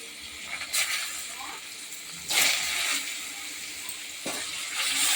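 Pieces of pointed gourd and potato dropping into hot oil flavoured with cumin, three separate bursts of hissing sizzle that rise sharply and then settle into a quieter steady fry, moderately close.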